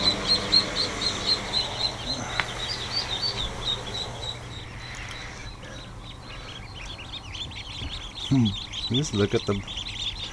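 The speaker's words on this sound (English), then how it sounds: "That's a good little whack of ducklings." Ducklings peeping in a hatchery, a busy chorus of high, thin chirps that carry on steadily behind a person speaking, with a few louder close calls near the end.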